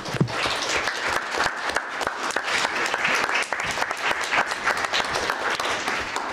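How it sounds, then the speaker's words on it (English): Audience at a literary publishing conference session in Chicago applauds steadily and loudly throughout, a dense wash of many hands clapping with no pauses. "you guys should all applaud for Ginger"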